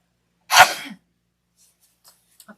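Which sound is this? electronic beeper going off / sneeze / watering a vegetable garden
sneeze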